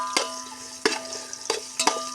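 A sizzling tempering for sambar crackles in a pan over a wood fire as asafoetida goes in, with sharp stirring clatters at a steady pace and a continuous hiss underneath.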